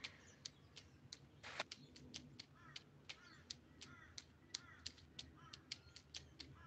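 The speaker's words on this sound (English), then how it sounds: "The birds are waking up and making a racket." Crows caw at dawn, faint and distant, in a steady series of short calls mixed with sharp ticking clicks, with no one talking.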